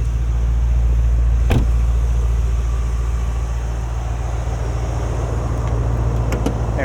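Low steady drone of the handcrafted AMG V8 in a 2024 Mercedes-AMG GT 63 S E Performance 4-Door, a loud, continuous rumble heard from inside while driving, with a brief click or knock.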